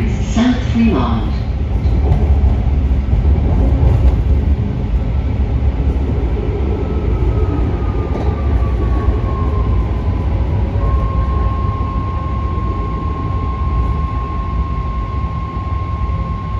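A BART Green Line train bound for Berryessa passes through Warm Springs/South Fremont station, a loud continuous low rumble with a rising then steady whine as it rolls by.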